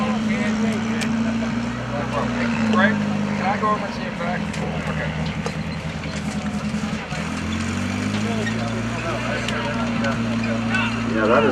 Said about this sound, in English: that is a radial engine. Might even be an 1820 that's on the B-17